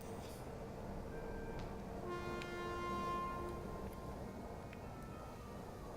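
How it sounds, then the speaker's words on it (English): A horn honks in the video game Tacoma, a steady harmonic blare that starts about two seconds in and holds for a couple of seconds over a constant ambient hum, with a few fainter tonal blips later. "I don't remember hearing that horn honking last time I was out here"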